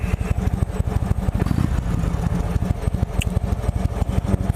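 A 2017 Indian Chieftain Limited motorcycle engine running at idle, a rapid, steady, low throbbing pulse heard up close with no voices over it.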